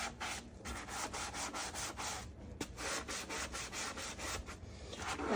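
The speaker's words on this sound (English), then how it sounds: "So then I pay special attention to the curve at the bottom. Give it a special swipe." Steady rhythmic scrubbing along the curves of a quartz composite sink, a close, dry rubbing swish repeating in quick even strokes with no talk.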